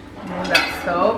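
Ceramic Christmas dishes and an oblong holiday platter, red and green with gold detail, clink and knock together in a kitchen, close and moderate, while someone speaks over them.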